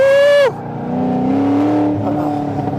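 A 700+ HP Corvette accelerates hard on a race track, its loud, close engine note dropping at a quick gear shift and then climbing steadily again in a strong, raspy roar.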